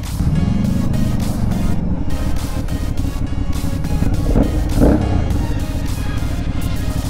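Aprilia Shiver 900 motorcycle being ridden, heard as a continuous engine drone mixed with heavy wind buffeting on the microphone, with a brief rise in revs near the end.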